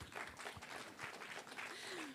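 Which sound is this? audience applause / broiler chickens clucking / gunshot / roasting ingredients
audience applause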